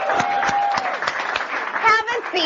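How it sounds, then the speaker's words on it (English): An audience at an improv workshop claps for two participants, a short burst of applause with a voice talking over it, the clapping loud and close throughout. "So let's give them a round of applause."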